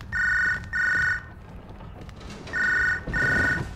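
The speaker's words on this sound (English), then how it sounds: "Somebody pick up that phone!" Telephone bell ringing in the prison video game MDickie's Hard Time III, four loud electronic rings in two pairs separated by a pause, with faint background game noise.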